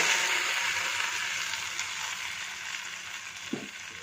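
Onions already fried red-brown in a pan, with freshly ground masala being added for a bottle gourd sambar; a steady close sizzle with a few stirring scrapes, alone without talk.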